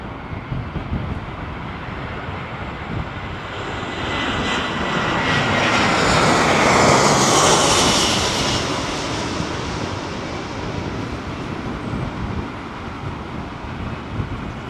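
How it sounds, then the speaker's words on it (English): Boeing 747 jet engines roar at Heathrow Airport during Storm Ciarán, a steady loud rush that swells and peaks midway as the jet passes, with wind buffeting the microphone throughout and no talk. "Listen to these engines."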